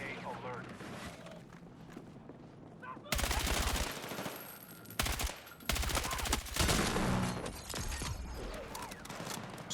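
Mounted gun firing in the video game Battlefield 6 battle royale, loud sustained bursts of rapid automatic fire in several long stretches with brief gaps, heard alongside game noise.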